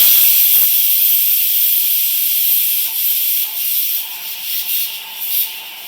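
Pressure cooker with dal inside releasing steam, a loud, continuous close hiss that wavers and pulses slightly toward the end, with no talking.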